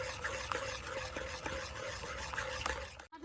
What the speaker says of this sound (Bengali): সুজিটা অল্প অল্প করে দেব আর এইভাবে নাড়তে থাকবো